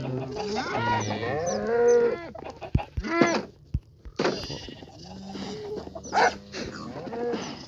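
Chickens clucking in Minecraft while being fed wheat seeds on a farm, giving a steady run of close, overlapping blocky clucks and bleat-like calls over several seconds.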